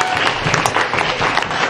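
A church congregation applauds and acclaims the Lord during a sermon, producing dense, loud, steady clapping from a crowd across a short burst with no break.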